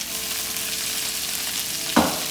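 Shrimp frying in oil with chopped onion and garlic, a steady close sizzle throughout with a brief louder burst of spitting near the end.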